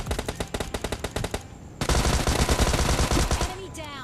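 Automatic gunfire in the video game PUBG Lite during a duo match, rapid sharp bursts of shots in quick rhythmic succession, a short pause, then a longer dense volley, loud and close.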